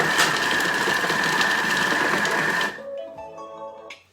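A Thermomix chops jackfruit chilli ingredients at speed 4 with a loud, steady whirring blade roar for about three seconds, then cuts off abruptly, leaving a faint mechanical whine as it winds down.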